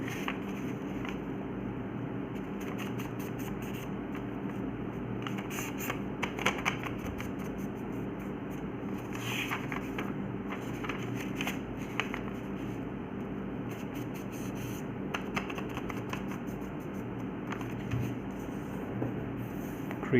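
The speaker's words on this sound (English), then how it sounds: "You need to fold the paper diagonally both." Origami paper is folded diagonally and creased in repeated soft crisp rustles and taps, close and fairly quiet over a constant low background hum.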